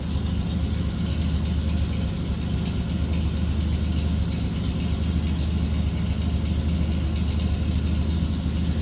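A 1947 Lincoln Continental club coupe's V12 idles smoothly and steadily up close, a low, even purr with a faint mechanical rattle running through it.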